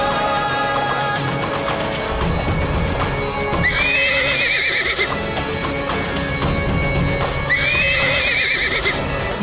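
A horse in a historical Indian battle drama neighs twice, loud and close, over a dense, busy score of music and crowd or hoofbeat sounds that runs throughout.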